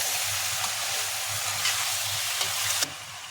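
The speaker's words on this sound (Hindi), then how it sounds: "अब तेज आंच पे इनको भून लेंगे, भिंडी बन के तैयार हो जाएंगी।" Okra and onions frying on high heat in a pan, a steady close sizzle with crackling and a few sharp pops, no voices.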